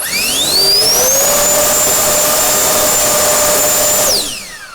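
A Chinese handheld turbo blower fan on a homemade battery whines up to its third speed setting, holding a loud, steady high-pitched turbine tone with a rising pitch at the start and falling away as it winds down near the end.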